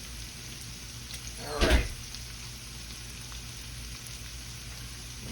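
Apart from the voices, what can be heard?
onions and bacon frying in a pan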